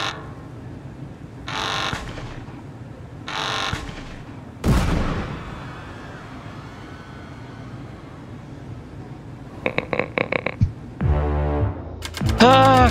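A terrorist attack at the border checkpoint in Papers Please: a sudden explosive boom, a stretch of low rumble, then a rapid burst of gunshots followed by short electronic game tones.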